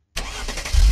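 A police car engine in an Unreal Engine vehicle demo starts up abruptly after a moment of silence, a steady close mechanical rumble that swells louder with deep low-end as it settles into running.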